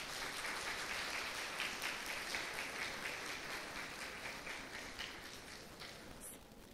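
Graduates at an evening ceremony in Haiti stand and applaud, a broad sustained wash of crowd clapping heard from some distance, steady and softly fading toward the end.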